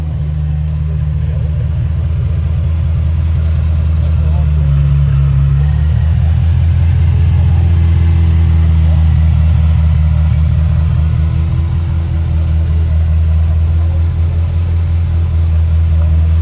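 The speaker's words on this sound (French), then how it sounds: "Voilà une mondiale Ferrari." Ferrari Mondial engine running steadily at close range, a deep continuous rumble with a faint rise in revs midway, alone with no talk over it.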